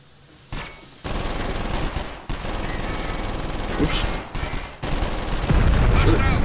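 Gunfire aimed at the player in the PlayStation 2 game 24: The Game, dense bursts of automatic shots and rattling fire, loud and continuous, with brief pauses between volleys.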